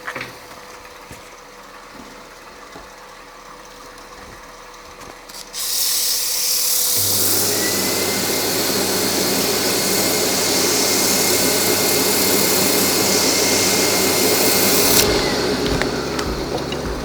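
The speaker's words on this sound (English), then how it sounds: "Bit of sanding." Sanding an oval wooden box with a threaded lid: a quiet workshop hum first, then a loud, steady power-sander roar that runs continuously for about ten seconds before dropping slightly at the end.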